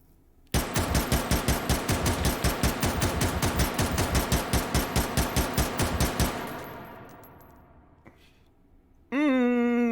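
A Mini-14 rifle fitted with a muzzle brake fires in rapid automatic bursts in the H3VR video game, about thirty sharp loud cracks in a steady fast rhythm that stop abruptly, followed by a fading ring and then someone talking.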